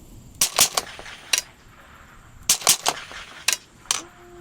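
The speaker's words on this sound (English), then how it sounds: "every time you push the trigger it makes 2 shots" Sharp gunshot-like cracks from a speed-challenge gun set to fire two shots per trigger pull, arriving in close paired bursts with short gaps between, loud and near with no talk.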